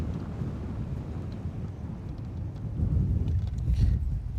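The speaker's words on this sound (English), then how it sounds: "it is breezy" Wind blows outdoors at Lake Guntersville, a low, rumbling buffeting gust across the microphone that swells louder toward the end, with no clear speech.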